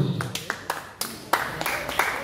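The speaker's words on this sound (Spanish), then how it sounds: "Aplauso para ellos." Sparse, irregular claps from a small audience at a boxing match after the first round, each clap sharp and separate with short gaps, moderately close.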